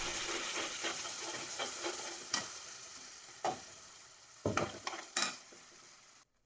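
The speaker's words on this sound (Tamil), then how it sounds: "இப்போ நம்ம அரைச்சி வச்சுருக்க மசாலாவை இதில் ஆட் பண்ணிக்கலாம்." Ground masala stirred into hot oil in a pan for paneer butter masala, a quiet close sizzle with several sharp scrapes and clinks of a spoon against the pan, then sudden silence at the end.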